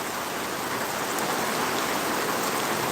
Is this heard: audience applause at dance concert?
no